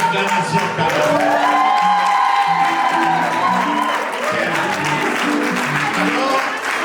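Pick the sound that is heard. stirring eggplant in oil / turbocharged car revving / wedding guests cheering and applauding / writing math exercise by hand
wedding guests cheering and applauding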